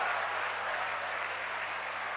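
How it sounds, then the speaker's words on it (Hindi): An audience claps in a dense, steady burst of applause that lasts for a couple of seconds, with no voices rising above it. "अध्याय समाप्त हुआ, जोरदार ताली बजाई जाए।"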